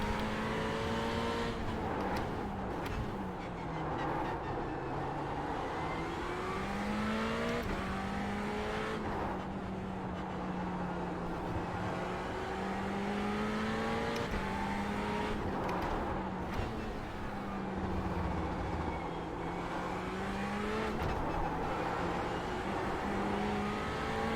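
A race car on a VLN endurance race at the Nürburgring, heard from onboard: a loud, continuous engine note that rises and falls steadily through gear changes for the whole stretch, with no talk over it.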